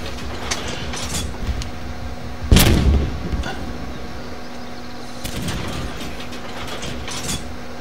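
Gunfire from an ERC-90 F4 armored car in a combat video game, one loud heavy cannon blast standing out among fainter distant shots and mechanical rumble.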